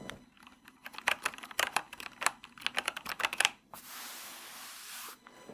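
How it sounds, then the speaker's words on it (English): Rapid, uneven clatter of a computer keyboard being typed on at a home office desk, close and crisp in short bursts, followed by a softer steady shuffling hiss near the end. "The keyboard."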